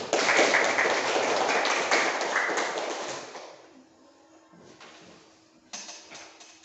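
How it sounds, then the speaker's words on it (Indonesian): Classroom of schoolchildren clapping together in a dense, loud burst that fades after a few seconds, leaving quieter room sounds and a brief late patter of claps. "Untuk itu kita sama-sama memberikan apresiasi, tepuk tangan dulu."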